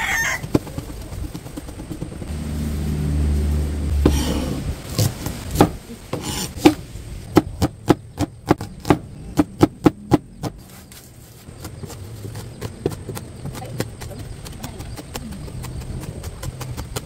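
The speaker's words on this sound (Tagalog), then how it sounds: "Ngayon naman po ay bawang at sibuyas ang ating hihiwain." Knife chopping garlic and onion on a board, a quick run of crisp, evenly spaced knocks with a rooster crowing in the background.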